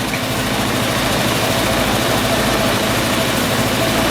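An Apollo SL250-2 250cc scooter engine idles slightly low, a close, loud, steady mechanical putter with an even throbbing pulse and no voices.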